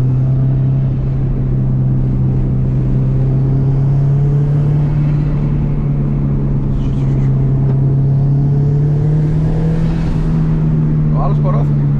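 Subaru Impreza with four-wheel drive driving on a dirt mountain road, its engine a steady low drone with road rumble throughout, loud and close, while people talk over it.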